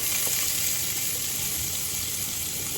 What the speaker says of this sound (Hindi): प्याज को भी हम अच्छे से भूनेंगे।